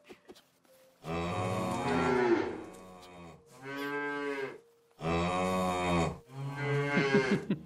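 Cows low in the VR game VRosty, four long, loud moos one after another with short pauses between them, standing alone without talk.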